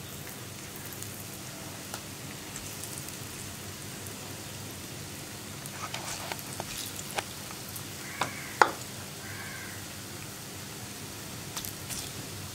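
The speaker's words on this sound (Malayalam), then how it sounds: "ഞാൻ വെളിച്ചെണ്ണയിലാണ് ഇതൊന്ന് ഫ്രൈ ചെയ്തെടുക്കാൻ പോകുന്നത്" Soya chunks frying in coconut oil, a steady low sizzle and crackle running throughout with a few sharper pops near the middle, fairly quiet and close, with no talking.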